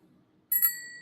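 A single bright ding bell effect is previewed in a video editor. It starts suddenly after a near-silent moment and rings on with a clear, sustained tone.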